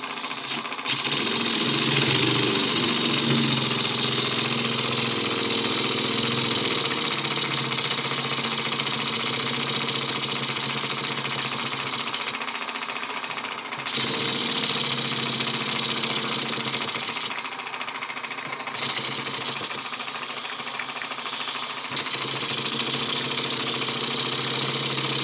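An Alexander Karnes stationary engine idling slowly at minimum RPM in a workshop, a steady, low, rhythmic chugging that runs continuously throughout, close and fairly loud, with slight shifts in tone.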